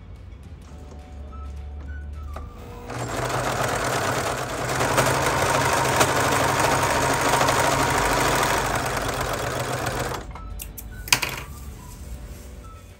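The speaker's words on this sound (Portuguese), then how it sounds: "Agora eu vou passar a máquina overlock para fazer o acabamento." An overlock sewing machine runs steadily for about seven seconds while finishing the seam of a pillowcase, a loud close mechanical whir that starts and stops abruptly, with quieter handling noises before and after.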